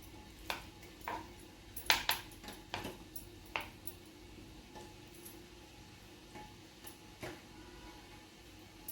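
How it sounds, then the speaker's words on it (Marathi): A metal spoon scraping and scooping pulp out of small mangoes, giving light scattered clinks and pings against a dish at an irregular pace, close but fairly faint. "आपण याचा आता गर काढून घेणार आहोत पहा चमच्याने असं"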